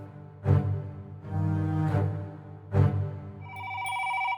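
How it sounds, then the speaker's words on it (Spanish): An old-style telephone rings in a military industry directorate office: three separated ring bursts over a steady low hum, then a high electronic tone near the end. Moderately quiet and heard alone. "El teléfono sonó en la Dirección General de la Industria Militar"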